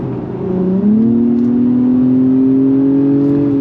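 A 2025 Acura TLX Type S all-wheel-drive sports sedan engine revs up and holds a rising, steady drone as it accelerates on a track, loud and close, with no talking.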